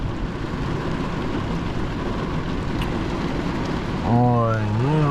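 Steady rain falling in warm weather, a dense even hiss throughout, with a voice starting to speak near the end.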